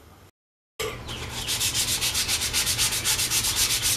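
Sandpaper of 220 grit rubs a rifle stock in close, steady back-and-forth strokes, a rhythmic scratchy hiss that starts after a brief silence and keeps an even pulse.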